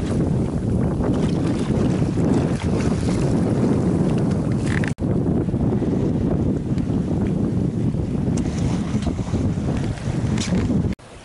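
A sailboat under way alone across the Gulf of Tehuantepec at about 3.5 knots: a loud, continuous rush of wind and water fills the whole stretch, with no talking.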